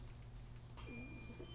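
Soft, low cooing comes from a racing pigeon of the Janssen of Arendonk breed, a few quiet throaty coos near the end over a faint, steady background hum, with no talking.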